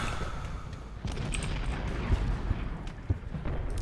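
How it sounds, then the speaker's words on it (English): Cannons and artillery fire in a Gettysburg Civil War battle video game, heard as scattered booms and crackling shots inside a dense, continuous roar of battle noise. "they got freaking cannons on top of here"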